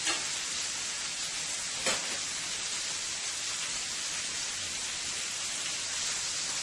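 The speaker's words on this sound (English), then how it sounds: "And we're going to let our steak continue to cook. These are cooking up so nicely here." Ribeye steak and jumbo shrimp fry in a pan, giving a faint, even, hissing sizzle throughout with one soft knock near the start and no voices.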